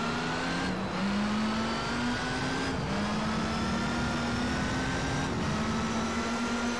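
A Porsche engine revs steadily in the racing game Gran Turismo 3, holding a continuous droning pitch that climbs slowly, with brief dips between gear changes, loud and close throughout with no talk.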